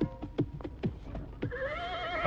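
A horse in an audio drama, with a few hoof clops and snorts followed by a clear, drawn-out whinny, close and prominent.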